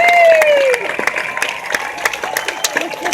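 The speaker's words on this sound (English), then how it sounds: "Everyone's clapping." An outdoor crowd claps just before a Fourth of July fireworks show: scattered, uneven clapping that keeps going, with a brief high whistle-like tone at the start and a murmur of voices underneath.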